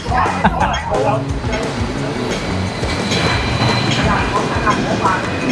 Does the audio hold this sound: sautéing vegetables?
no